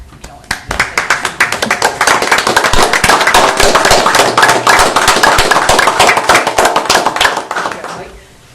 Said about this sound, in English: I'd like to have a nice warm clap for Kelly.